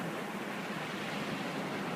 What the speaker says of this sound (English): Here comes a wave, just about here.